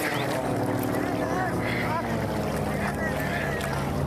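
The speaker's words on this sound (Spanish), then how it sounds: "Ya va llegando la lancha" A motorboat arrives on the Rio Grande during a river rescue, its engine a steady, loud drone mixed with wind rush. Faint voices sit underneath throughout.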